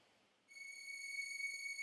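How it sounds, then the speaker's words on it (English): An ambient string drone in an electronic music track fades in as a faint, sustained high tone with a glassy, whistle-like timbre. It holds steady and unbroken with no other sounds. "I just added some ambient sort of sounds like this string drone."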